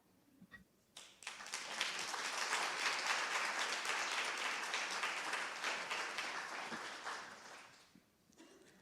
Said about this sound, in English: I'm going to assume you heard the rapturous applause over my microphone.